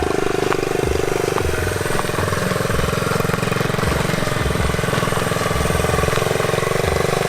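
A rebuilt Honda Trail 70 motorcycle engine runs steadily and continuously, with a dense, even mechanical drone and no break throughout.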